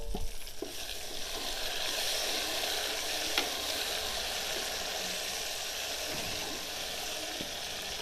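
Tomatoes and green chillies frying in a pan with browned onions for chicken Bombay biryani, giving a steady sizzle with stirring scrapes throughout, no talk.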